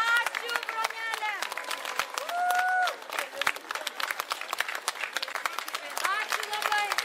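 A hall audience at a village jubilee celebration claps steadily in dense, continuous applause, with voices calling and talking over it throughout.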